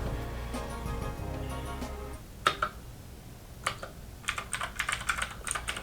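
Clicky keystrokes from a Keychron K6 keyboard with blue switches, typed in quick irregular bursts close to the mic over a steady hum of room air conditioning.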